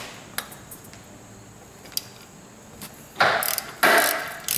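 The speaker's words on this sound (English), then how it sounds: "We're gonna take and loosen this bolt on the front of the pulley first" Ratchet wrench clicking while loosening the front tensioner pulley bolt on a Kia Sportage 2.0L engine's AC belt, a few sparse ticks followed by two louder bursts of ratcheting near the end.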